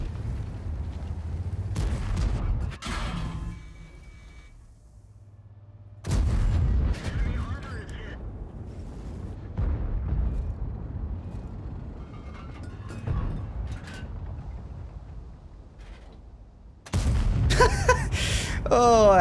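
An M103 tank cannon fires in World of Tanks with two heavy, booming blasts about eleven seconds apart, over rumbling engine noise and bursts of clatter.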